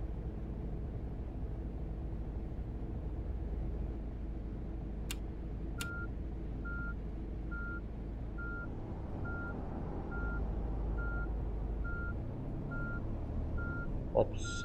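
Reversing beeps from a Setra S 500 coach in Fernbus Simulator repeat at an even pace over a steady low engine drone, beginning after two short tones and continuing to the end, with a brief sound just before it stops.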